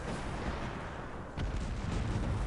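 Howitzer artillery in the real-time strategy game Cossacks 3, heard as a continuous loud barrage of booming shots with a sharper report partway through, thick and rumbling throughout.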